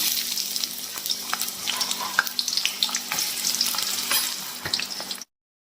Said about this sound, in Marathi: तर आता याच कढईमध्ये मी तेल टाकलेलं आहे. त्याच्यामध्ये थोडंसं जिरं मोहरी टाकून देते